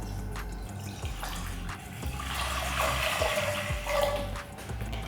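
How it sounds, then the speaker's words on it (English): Tap water runs into a cooking pot on a kitchen stove with a steady splashing rush that rises in the middle and carries on, moderately loud and close, with no speech. "add some water."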